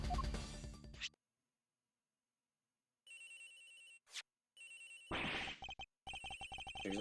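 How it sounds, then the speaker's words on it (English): A telephone rings in the Ace Attorney Investigations video game in short repeated bursts after a moment of silence, clear and alone. "This phone is ringing from somewhere"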